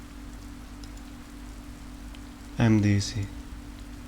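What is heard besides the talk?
distant quiet drizzling rain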